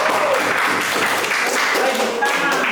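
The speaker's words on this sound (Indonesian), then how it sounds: "Tepuk tangan dulu dong." Students applauding in a school setting, a dense, steady wash of clapping mixed with crowd voices and chatter, filling the room throughout.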